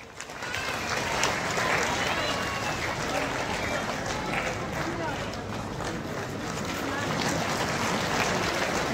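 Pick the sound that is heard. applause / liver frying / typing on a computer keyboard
applause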